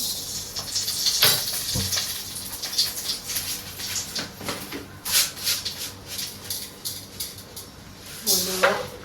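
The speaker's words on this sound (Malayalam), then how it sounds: "ഇനി ഒന്ന് വറുത്തിടും" Hot oil crackles and sizzles in bursts as tempering spices for sambar hit the pan, with occasional clinks of a utensil nearby.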